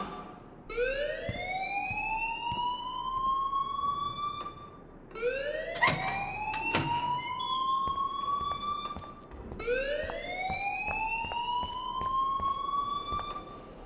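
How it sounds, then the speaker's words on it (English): A rising, wailing alarm siren sounds in the video game Life is Strange, three long sweeping cycles that climb in pitch and hold, loud and steady, with a brief clatter during the second. "please turn off that alarm since that's your job"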